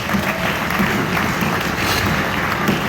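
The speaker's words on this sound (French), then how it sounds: "Vous pouvez l'applaudir." Audience applause after a tribute to the Grand Prix president at a gathering of customary chiefs from Grand Kivu, DRC; steady, dense clapping held at an even level throughout.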